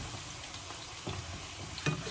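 Cuban picadillo mixture sizzling in a pan, a steady close frying hiss with a couple of faint scrapes or stirs breaking through.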